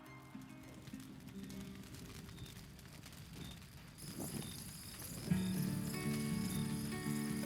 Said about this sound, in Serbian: Čuje se samo zvuk varnica i cvrčaka